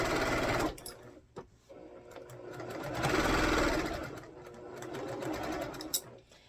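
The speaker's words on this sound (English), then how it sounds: "I'm going to start sewing these down one column at a time." Sewing machine stitching fabric blocks into a chain, running in close, steady whirring bursts with brief pauses between seams.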